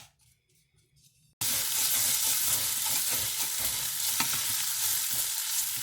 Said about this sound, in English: she's scraping some of the seasoning off the bottom of the pan